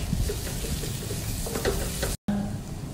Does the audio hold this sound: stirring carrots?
yes